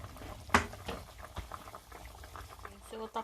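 Filipino humba stew simmers in a pot over low-medium heat, giving a quiet, irregular bubbling of soft pops and plops with one sharper knock near the start.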